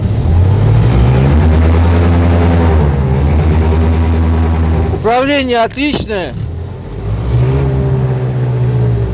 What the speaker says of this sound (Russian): Вот, дизель отлично заводится.